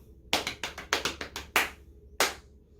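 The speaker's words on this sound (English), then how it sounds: "patting on the laps is ticka ticka, clap is always ta." Classroom rhythm exercise of quick lap pats and hand claps, a run of sharp close percussive hits in a ticka-ticka pattern followed by a couple of louder single claps, with no talking.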